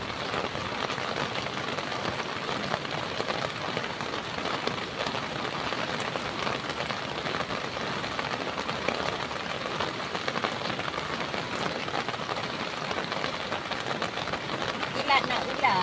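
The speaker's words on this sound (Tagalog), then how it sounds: "Ligo na po ako ng ulan yan." Steady rain pattering on surfaces nearby, a dense continuous hiss of drops with faint speech underneath.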